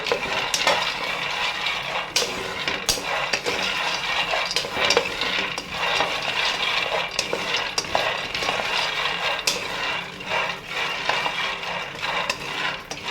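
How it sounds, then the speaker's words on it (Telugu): Peanuts dry-roast in a pan while being stirred, giving a dense, steady rattle and scrape of nuts against metal throughout, with sizzling texture and no voices. "ఇవి పల్లీలు అనేవి చూస్తున్నారు కదండి, ఇవన్నీ చూడండి ఎలా వేగుతున్నాయో"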